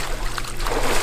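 Water churns and splashes in an outdoor-sounding pool as someone jumps in during a seniors' aquatic exercise, a continuous close wash of sloshing water with no clear single impact.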